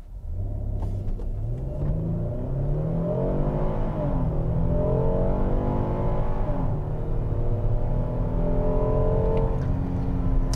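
A 2022 Kia Telluride AWD with a 3.8-liter naturally aspirated V6 accelerates hard from 0 to 60 in sport mode with traction control off, engine droning and climbing in pitch through several gear shifts, steady and loud from inside the cabin.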